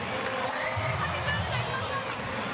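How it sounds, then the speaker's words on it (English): A large stadium crowd at a rugby league match between Canberra Raiders and Parramatta Eels: a steady roar and babble of many voices fills the background beneath a commentator's voice. "Big crowd here."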